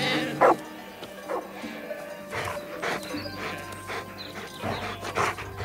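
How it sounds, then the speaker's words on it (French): A female Beauceron sheepdog working a flock of ewes barks several times over steady outdoor background noise, the barks moderately close and spaced irregularly. "Raga est une femelle beauceron"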